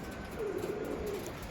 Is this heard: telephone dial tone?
no